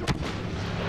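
A turret is destroyed in the Star Wars Battlefront video game: one loud, sharp explosive blast at the start, followed by a rumbling, noisy decay, with no talk.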